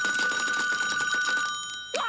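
A cartoon telephone rings with a bright, rapidly trilling electric bell for nearly two seconds, loud and close, before cutting off as a voice begins to speak.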